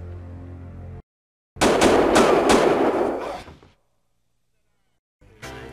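A short, dense burst of rapid gunfire from The Last Bounty Hunter game erupts after a brief silence, with several sharp shots at its start, then cuts off; musical tones come before and after it.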